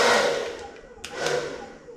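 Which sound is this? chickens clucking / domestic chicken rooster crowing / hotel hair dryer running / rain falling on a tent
hotel hair dryer running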